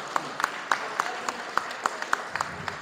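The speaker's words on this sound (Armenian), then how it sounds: "ծափահարություններ" Audience at an Armenian powerlifting championship claps in a sparse, fairly steady rhythm, with single sharp claps spaced about a third of a second apart in a hall, moderately loud and with no other sound over them.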